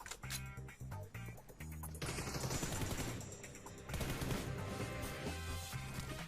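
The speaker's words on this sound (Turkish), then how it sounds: "Çocuk çok iyi prefire atıyor bu arada ha" Rapid gunfire from a Counter-Strike style video game as a player prefires, loud bursts of automatic shots in quick succession with sharp cracks and dense rattling that continues nearly without pause, no voices present.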